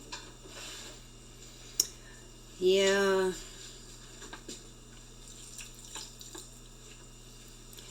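Water is poured from a tap into homemade dog treat dough made with spelt, a brief gushing splash lasting under a second amid quiet kitchen clatter, with a short spoken word nearby.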